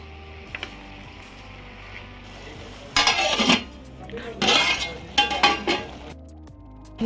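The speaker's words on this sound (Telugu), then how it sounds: "ఉడికినాక గోంగూర వేసుకొని బాగా తిప్పుకోవాలి" A spoon scraping and clinking against a metal pot while gongura fish curry with onions is stirred, several clusters of loud metallic scrapes close by, with a person talking quietly in between.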